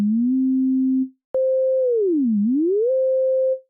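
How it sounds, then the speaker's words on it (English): A Massive X synthesizer sine wave oscillator plays steady pure tones alone: a low held note, a short gap, then a higher note that dips down in pitch and glides back up before stopping. "Let's go to sine wave here, and let's go oscillator."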